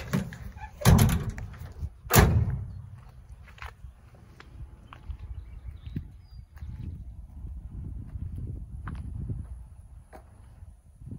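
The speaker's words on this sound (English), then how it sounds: "Should the tailgate works real quick." Tailgate of a 2011 RAM 1500 work truck being operated: two sharp metallic clanks close together near the start, followed by quieter scattered knocks and handling noises.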